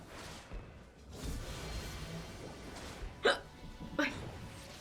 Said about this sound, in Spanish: Mierda, tengo hipo.